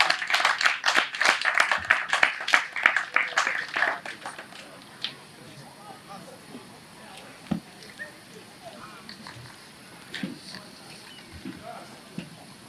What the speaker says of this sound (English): Shall we clap hands for Mr. 𝗟𝗜𝗃𝗃?